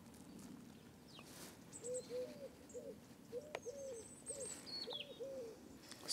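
Soft, repeated cooing calls from pigeons, a few low rounded notes in a loose rhythm, with faint chirps from other birds in the background.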